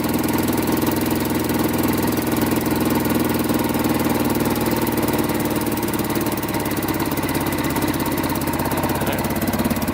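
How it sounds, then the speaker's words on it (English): A Kawasaki 4x4 ATV engine idling a little high, a loud, steady, close mechanical drone with an even rapid pulse that holds without change throughout. "it's running pretty good. Idle seems a little bit high"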